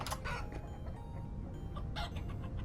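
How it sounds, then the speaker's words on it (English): Chickens in the farming survival game Vintage Story cluck and squawk in a few short bursts at close range over a low ambient bed, with no talk over them. "every time we walk by here, the chickens do their fun noise"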